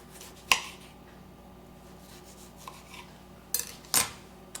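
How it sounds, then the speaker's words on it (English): A knife slicing strawberries, heard as a few sharp, separate taps and scrapes against a board, one early and two close together near the end, in a quiet kitchen. "So we're going to slice some strawberries."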